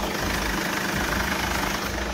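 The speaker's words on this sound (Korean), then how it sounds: "이렇게 영상에서 듣는 것처럼 디젤 엔진이라 어느 정도 소음은 있지만" Mercedes-Benz CLA diesel engine idling with the hood open: a steady, dense, close rumble with a faint knocking texture and no variation in speed.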